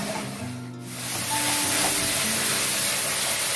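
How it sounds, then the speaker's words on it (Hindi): Spices with a couple of spoonfuls of dried fenugreek leaves roast in a pan, first with a low tonal hum, then a loud, steady broadband hiss of sizzling that carries on to the end. "इसको अच्छे से भूनते हैं मसाले को"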